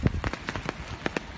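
Heavy storm rain pours down on a village in Ban Dong Mot, a dense steady patter with scattered louder drops hitting surfaces, continuous and close with no voices.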